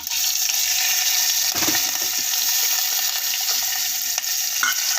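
Ground rasam paste is poured into a hot pan of oil with curry leaves, red chillies and asafoetida, setting off a loud, steady sizzle close by with a few small clinks.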